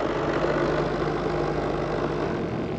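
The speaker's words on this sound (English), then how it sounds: "You think that's the engine?" A boat engine idles steadily out on the water near a paddleboard, a continuous close rumble with no talk over it.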